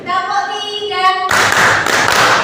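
A classroom of students claps together in a set rhythm pattern. A voice speaks first, then loud, dense group clapping follows.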